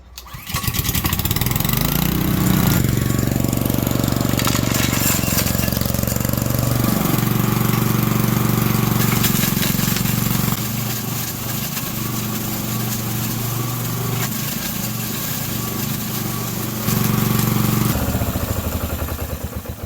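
A lawnmower-engine rock crusher with a spinning prop flinging conglomerate into steel baffles, a loud continuous engine roar with a gritty rattling clatter of stones, steady for nearly twenty seconds with slight shifts in pitch.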